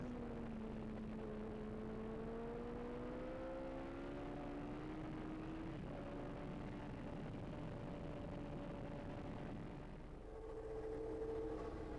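A McLaren Formula 1 car from 1979 racing on a wet track, its engine a steady distant drone with pitch sweeping upward through gear changes, continuous and fairly faint against a constant hiss of spray and background noise.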